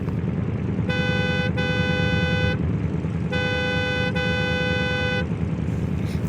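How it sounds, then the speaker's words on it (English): Horn of a 1970s car in BeamNG Drive giving two long blaring honks, the second longer, loud and close over a steady engine rumble. "I kind of want to figure out what the horn of this thing sounds like"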